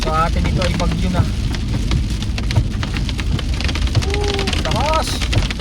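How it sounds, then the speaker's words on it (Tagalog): Intense rain lashes downtown Calgary in a continuous, close hiss and patter of heavy drops, with voices speaking through the steady downpour. "Malakas ang ulan."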